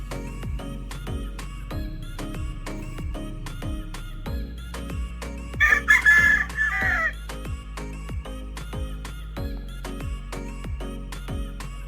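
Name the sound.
gamefowl roosters crowing and clucking at game farm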